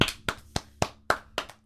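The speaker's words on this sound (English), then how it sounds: "give a round of applause for Kasey." Slow, sparse hand claps from a single person or very small group, about seven distinct sharp claps spaced irregularly, close and fairly quiet in a small room.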